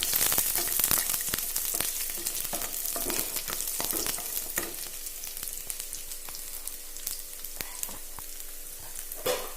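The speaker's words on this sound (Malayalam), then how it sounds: "വെളുത്തുള്ളി നീളത്തിലരിഞ്ഞത് നമുക്കിട്ടൊന്ന് നല്ല ബ്രൗൺ കളറാവണ വരെ അതൊന്ന് ഫ്രൈ ആവണം" Sliced garlic frying in a pan for a simple parippu curry keeps up a steady crackling sizzle, punctuated by a run of sharp spoon taps and scrapes, with no speech.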